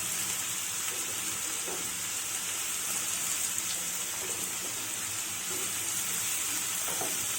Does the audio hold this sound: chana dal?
yes